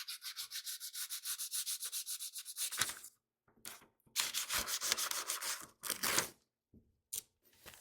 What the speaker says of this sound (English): To cut it, I'm just going to use some sandpaper.